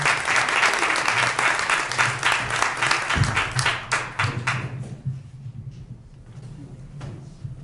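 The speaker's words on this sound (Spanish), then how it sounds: "Un aplauso para ella, por favor." A hall audience applauds to welcome a speaker at a university science and innovation fair, loud dense clapping that thins into scattered claps and fades over several seconds.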